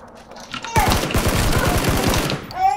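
Rapid burst of gunfire in the battle royale game PUBG, a dense run of close, loud shots from behind lasting about two seconds, with faint voices before and after.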